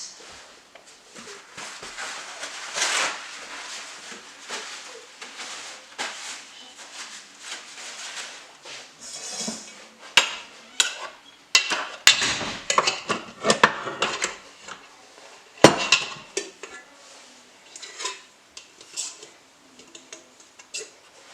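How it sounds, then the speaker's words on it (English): Sticky ciabatta dough is tipped from a stand mixer into a well-oiled bowl, with irregular clinks, knocks and scraping clatters of the bowls and utensils, some sharp and close, without talk. "we're going to turn off the mixing, and then we're going to tip it out into a well-oiled bowl"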